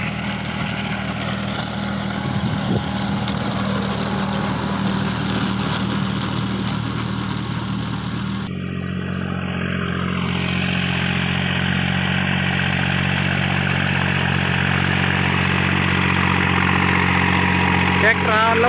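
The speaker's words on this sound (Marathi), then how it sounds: "ट्रॅक्टर हा लवथडवर 2000 RPM आणि 540 इकॉनॉमी PTO या गिअरवर चालू आहे" A Swaraj Target 630 tractor runs a sugarcane rotavator off its 540 economy PTO at about 2000 RPM, a steady close engine drone that continues throughout with a voice talking over it.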